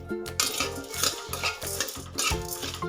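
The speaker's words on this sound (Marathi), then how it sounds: "शाबू पण आपल्याला याच्यामध्येच भाजून घ्यायचा आहे" Sabudana and barnyard rice are dry-roasted in a pan over medium heat, giving a rattling, scraping stir of dry grains against metal. The sound is continuous and close, and a strong low hum runs underneath.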